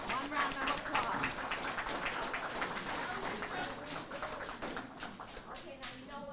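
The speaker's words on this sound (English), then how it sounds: "Can we give up our honorees a round of applause?" Audience at a recognition breakfast for the Mount Clemens Optimist Club applauding its honorees, a dense, sustained round of clapping from many hands filling the room, with some voices mixed underneath.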